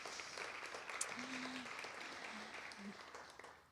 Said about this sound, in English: So a nice little round of applause for Forced Space.